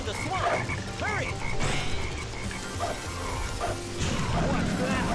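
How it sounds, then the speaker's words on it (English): Frogs in the Sonic Heroes swamp level croak again and again, loud and close. Each croak is a bouncy call, and they sound over busy game music and effects while a voice speaks. "There's that black frog again!"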